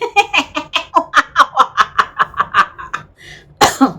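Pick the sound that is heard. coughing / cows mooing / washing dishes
coughing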